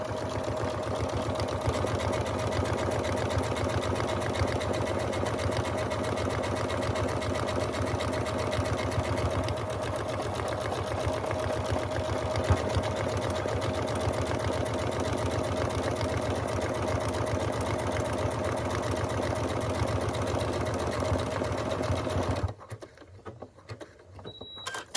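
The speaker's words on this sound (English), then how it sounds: "So I'll just start her off, and it'll make another buttonhole for me." A sewing machine stitches a buttonhole in fabric, running with a fast steady whirring rhythm for over twenty seconds at close range before stopping abruptly.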